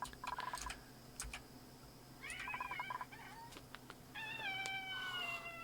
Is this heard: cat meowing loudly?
yes